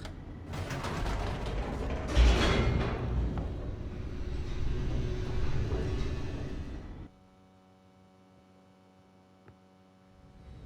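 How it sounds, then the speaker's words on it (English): An elevator descends in The Stanley Parable, a creaking, mechanical rumble with a loud clunk early on, ending abruptly and leaving a low steady hum. "The elevator raced downward"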